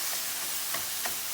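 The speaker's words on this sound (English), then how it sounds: "So let's toss it around and take it up." Noodles hiss and sizzle in a hot pan as they are tossed, a steady bright frying sizzle with a few soft scraping stirs, close and alone without talk.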